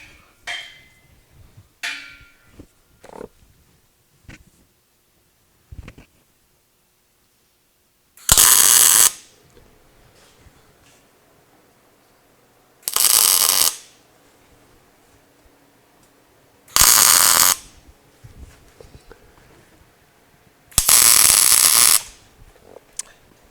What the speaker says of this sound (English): And then I'm going to tack weld both sides.